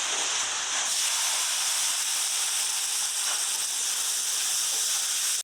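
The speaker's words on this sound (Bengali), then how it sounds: "মাছ ভাজা হয়ে গেছে নামিয়ে দিলাম এই কড়াইতে দেবো পেঁয়াজ কুচি" Chopped onions hit very hot oil in a wok, producing a loud, dense, continuous hiss and sizzle from start to finish with no talking.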